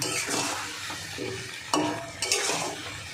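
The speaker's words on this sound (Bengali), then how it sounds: "এবার নেড়ে ছেড়ে আচারটা তৈরি করতে হবে।" A spoon stirs mango pickle in a pan with soft scraping strokes over a light sizzle, with two sharper knocks against the pan partway through.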